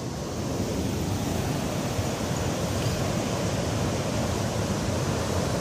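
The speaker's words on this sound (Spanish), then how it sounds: "Buen oleaje." Ocean surf rolls in at Playa Hermosa beach, a steady, broad wash of breaking waves that stays loud and unbroken from start to finish with no voices over it.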